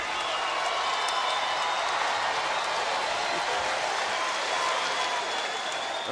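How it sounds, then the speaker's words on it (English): A boxing arena crowd on its feet at the Bernard Hopkins vs Beibut Shumenov fight, a steady, dense roar of applause and cheering that fills the space for several seconds without a break. "The crowd on its feet."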